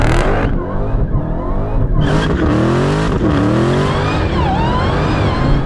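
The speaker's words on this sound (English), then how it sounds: "pull both pedals, increase engine speed, there we go. Release the left, release the brake." A Dodge Challenger Demon and a Porsche 911 Turbo S launch side by side in a drag race, engines roaring loud and close with rising revs, gear changes and tire squeal throughout.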